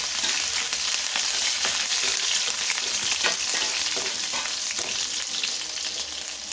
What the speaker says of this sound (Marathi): लसूण हे चांगल्या प्रकारे फ्राय करून घ्यायचे आहे। तर हिरवी मिरची देखील टाकून घेणार आहोत।